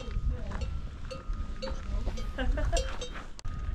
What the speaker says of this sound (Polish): Byczki, krowy chodzą po ulicy.